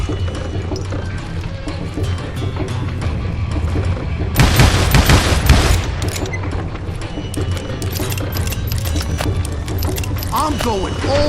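Shots ring out in a Call of Juarez: Gunslinger gunfight, with scattered bangs throughout and a dense, loud burst of firing in the middle, mixed with voices and game ambience.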